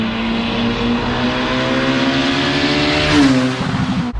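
Engine of a turbocharged 350 bhp Honda Civic Type R EP3 holding a steady high drone, then briefly rising and falling in pitch near the end, loud and close.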